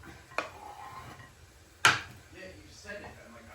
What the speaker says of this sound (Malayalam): അപ്പം ഇങ്ങനെ അരിഞ്ഞെടുക്കും.